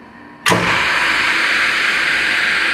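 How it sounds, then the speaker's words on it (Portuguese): A Dahlander two-speed electric motor switches to high speed, starting abruptly and settling into a steady, loud whirring hum that holds without talk. "Você percebe que o motor naturalmente aumenta aí a sua velocidade"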